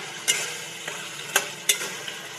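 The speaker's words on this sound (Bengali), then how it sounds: "ভালো করে কষিয়ে নেব।" Parboiled meat with ginger, garlic and salt stirred and fried in a pan for Hyderabadi palak gosht, a steady close sizzle broken by three or four sharp spatula scrapes and knocks.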